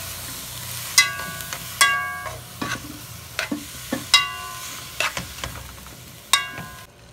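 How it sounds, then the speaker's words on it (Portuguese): Spoon stirring chicken lasagna filling with corn and chopped olives in a pan, sharp clinks and scrapes against the metal every second or so over a soft, steady sizzle. "Vou misturar bem."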